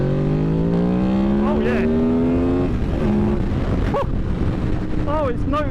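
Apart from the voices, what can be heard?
Honda VFR800 motorcycle engine revving into VTEC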